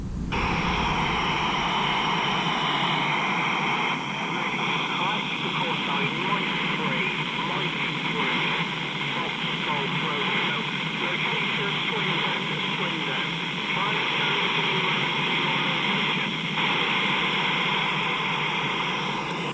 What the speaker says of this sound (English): there's a Golf 3 there, just a little bit in the static.